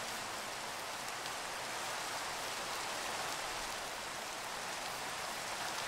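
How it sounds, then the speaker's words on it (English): Steady rain falls in the Minecraft game world, a dense, even hiss of close, loud patter that holds unchanged throughout with no voices. "the rain will be good for my crops"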